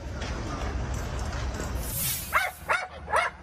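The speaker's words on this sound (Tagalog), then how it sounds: "Ang rescue dog na si Nari panayang tahol matapos namang madetect ang bangkay ng isa sa mga biktima" A search and rescue dog at a collapsed building gives three sharp barks in quick succession near the end, following a stretch of muffled rumbling background with voices at the site.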